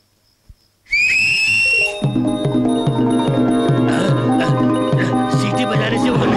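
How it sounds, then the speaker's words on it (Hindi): A sharp, shrill whistle rings out briefly to call a horse, then is swallowed by loud, dramatic film music with a steady pulsing rhythm. "सीटी बजाने से वो नहीं आएगा।"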